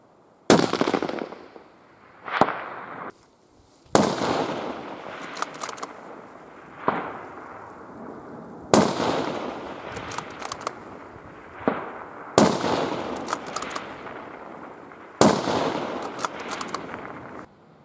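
Long range rifle shots crack out one at a time, about seven sharp reports spaced a couple of seconds apart, each trailing off in a long outdoor echo, loud and close.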